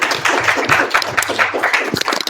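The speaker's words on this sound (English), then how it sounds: "Audience, can we have a round of applause for them?" Conference audience at a blockchain and AI event claps together in a lively, dense burst of applause that continues steadily throughout, with individual hand claps audible close by.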